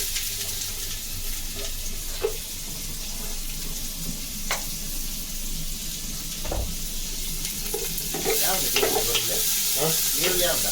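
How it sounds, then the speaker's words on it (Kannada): Sliced onions frying in hot ghee for a village-style chicken curry, a steady close sizzle with occasional stirring scrapes and clinks, growing busier toward the end. "ನೀರುಳ್ಳಿ ಹಾಕ್ತಾ ಇದ್ವಿ."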